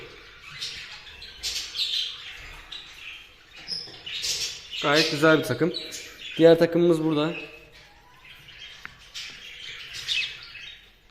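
Pet birds in breeding cages chirp and squawk in bursts near and far, with a few louder harmonic calls in the middle, while someone speaks over them.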